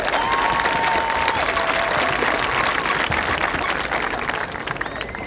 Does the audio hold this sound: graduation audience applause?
yes